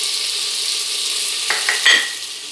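Onions fry in oil with salt for gongura pachidi, a steady close sizzle with a few light utensil clinks as they are stirred.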